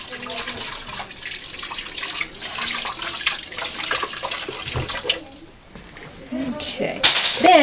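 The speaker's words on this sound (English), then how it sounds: "I'm just going to rinse my hands real quick" Hands rinsed under a running kitchen tap during scone baking, a steady broadband rush of water lasting most of the stretch, briefly thinning before picking back up near the end.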